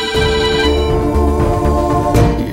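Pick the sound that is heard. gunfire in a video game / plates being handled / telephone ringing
telephone ringing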